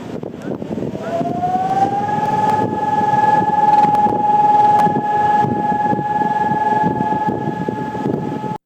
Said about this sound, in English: That's the siren that they play at the beginning of the Israeli Memorial Day.